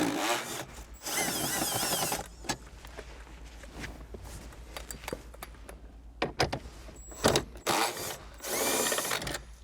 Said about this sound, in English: we are gonna remove these three 10mm bolts